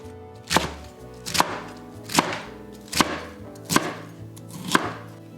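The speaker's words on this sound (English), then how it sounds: "Roughly chopped Chinese cabbage." A knife roughly chopping Chinese cabbage on a cutting board: six sharp, evenly spaced thuds about a second apart, close and crisp, with no talking.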